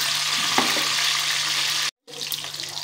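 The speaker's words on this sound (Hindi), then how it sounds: "मिर्ची थोड़ा सा फ्राई होगा" Slit green chillies fry in hot oil with a steady, close sizzling hiss that cuts out abruptly for a moment before resuming.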